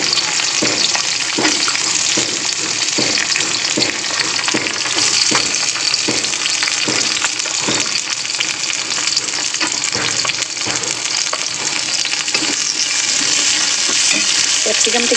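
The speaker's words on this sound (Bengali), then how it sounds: "তেলের মধ্যে এবার দিয়ে দেবো একটু রসুন কুচি, ওর মধ্যেই দিয়ে দেবো ক্যাপসিকামটা একটু রসুনের সঙ্গে ফ্রাই করে নেব" Chopped garlic and capsicum fry in hot oil for soybean chili, giving a steady, close sizzle all the way through, with frequent scraping strokes of a spatula stirring the pan. No one speaks.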